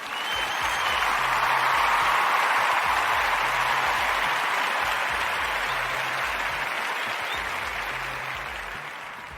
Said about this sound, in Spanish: ya después de darnos este aplauso